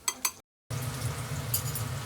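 Beef sits in a ginger marinade of juice and pieces and is mixed by hand, with two quick clinks, a brief silence, then a steady wet stirring and scraping.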